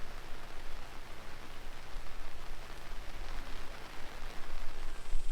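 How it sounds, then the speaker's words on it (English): Rain falls steadily at a campsite in Pedernales Falls State Park, Texas, a broad soft hiss of drops that swells a little toward the end, with no voices. "Oh, we sure needed this rain."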